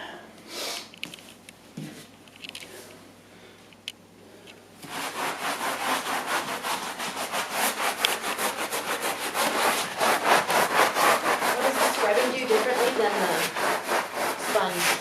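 Brush scrubbing dry encapsulation foam into an area rug after a sponge applied it: quieter handling noises give way to steady, rhythmic, close scratchy strokes that continue to the end.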